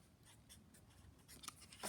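Pencil scratching steadily across a math journal page while writing out a definition, soft and close, in short repeated strokes with no talking.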